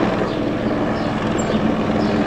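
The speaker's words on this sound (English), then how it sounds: "that police helicopter is circling our house." A police helicopter circling over a house gives off a steady low rotor drone, a continuous rumbling hum that stays even in loudness for the whole stretch, with no voices.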